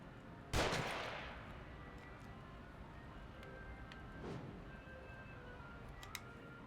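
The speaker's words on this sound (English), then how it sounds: "Okay, he's gonna shoot me now." Gunfire in the horror game The Evil Within: one sharp, loud shot that fades out, then a quieter second report a few seconds later over low ambient hum.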